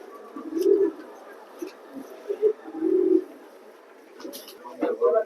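Racing pigeons, a male and female pair at a loft, coo in several soft low bursts, separated by short pauses, with a voice talking over them.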